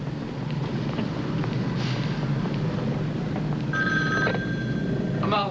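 Telephone ringing, a few short electronic trilling bursts rising late over a steady hum and noisy background, fairly faint and without talk.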